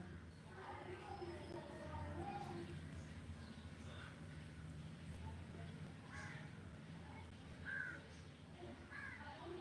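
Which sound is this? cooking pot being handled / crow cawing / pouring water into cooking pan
crow cawing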